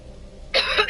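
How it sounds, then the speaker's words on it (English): A single sharp cough bursts close into a microphone after a near-silent moment, loud and breathy. "Sorry, I didn't want to cough into the mic there."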